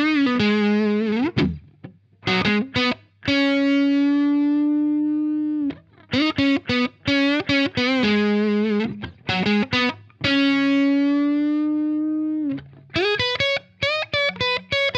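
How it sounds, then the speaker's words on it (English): An electric guitar plays a distorted lead line through a hard clipping distortion pedal, with long sustained notes broken up by quick picked runs and short pauses. "So let's start again with distortion."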